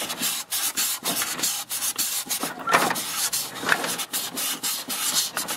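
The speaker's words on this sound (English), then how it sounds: "I'm going to sand the other side of the shaft." A rusty snowblower drive shaft is rubbed by hand with 400 grit sandpaper, making close, rhythmic rasping strokes roughly twice a second, steady and fairly loud with no voice.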